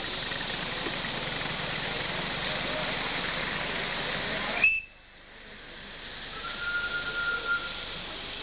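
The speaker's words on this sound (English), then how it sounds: "The official party is taking a run around the track here behind Bob Sanderson's Shay." A Shay steam locomotive hisses steadily on a track while pulling a train at an anniversary run. A loud broadband steam hiss cuts off sharply, a faint whistle-like tone follows, and the hiss slowly builds again.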